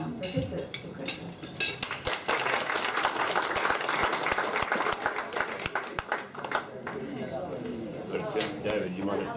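A luncheon audience applauds to welcome Professor David De Kretzer, with loud, sustained clapping mixed with clinking cutlery and dishes and a murmur of voices in the room.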